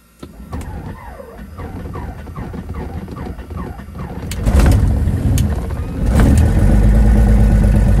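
An aircraft piston engine is cold started after a fuel pump toggle: a starter whirs in a rhythmic chug, then the engine catches with a loud rough roar, settling into a powerful close rumble.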